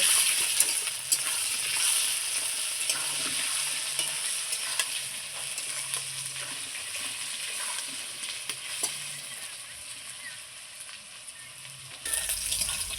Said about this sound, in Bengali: হলুদ আর লবণ দিয়ে আবারও আমি আলুটাকে খুব সুন্দর লাল লাল করে ভেজে নেব